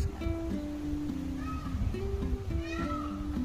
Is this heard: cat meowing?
yes